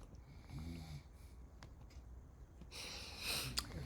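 A man snores loudly while asleep in the background at about 4:30 in the morning, giving a few rough, rasping breaths with a louder snort-like burst toward the end.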